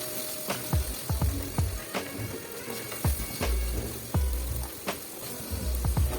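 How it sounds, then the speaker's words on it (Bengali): Ginger garlic paste fries in a pan, a steady sizzle broken by repeated clinks and scrapes of a spoon stirring against the metal, close and without talk. "এবার আমি আদা রসুন পেস্ট 2 টিস্পুন, এটা ভেজে নেব 10 থেকে 12 সেকেন্ড"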